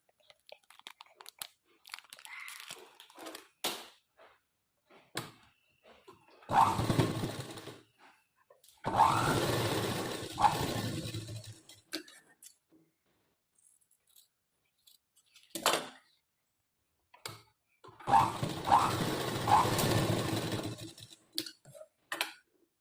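A sewing machine stitches the shoulder of a frock in several separate bursts of rapid mechanical clatter, quiet gaps and small ticks between runs, no talking.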